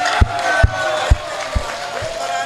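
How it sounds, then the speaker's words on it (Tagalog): A debate audience in Cagayan de Oro, at a Seventh-day Adventist versus Catholic debate, applauds with a dense, sustained crowd roar, and heavy low thumps land about every half second. "atong palakpakan."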